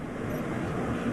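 An airplane passes a camera while landing, heard as a steady broadband roar that fills the moment without a break.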